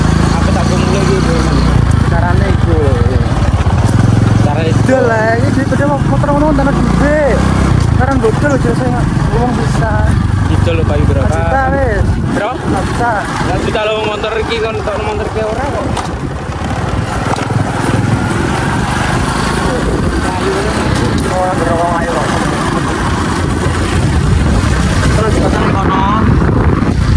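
Motorcycle engine running nearby, a continuous buzzing drone that stays loud throughout while people talk over it.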